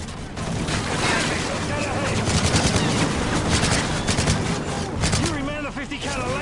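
Heavy .50 cal machine gun laying down sustained cover fire in the Call of Duty Modern Warfare 3 video game, a dense continuous battle din of rapid shots that runs without pause under a loud mix.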